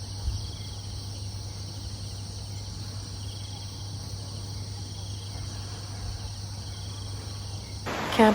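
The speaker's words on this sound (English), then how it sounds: "maybe just a bit of silence so you can hear some of the cicadas and the birds" Steady insect drone of cicadas in a river valley near Ho Chi Minh City, with a constant low hum and faint distant birds, ending in a brief louder rustle.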